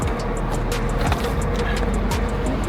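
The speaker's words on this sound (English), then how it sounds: "We're stuck in traffic." Road traffic in a jam on a carnival day, with a close car engine rumbling steadily amid nearby vehicle noise.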